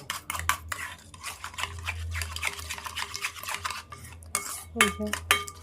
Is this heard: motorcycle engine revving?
no